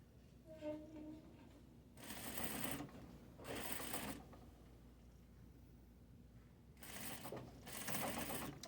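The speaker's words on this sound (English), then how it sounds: "This is going to sew right sides to right sides on the side seam" A sewing machine runs in three bursts, stitching a half-inch side seam on a corset with the fabric placed right sides together. The bursts are steady, fairly quiet mechanical whirring and are separated by pauses with no talking.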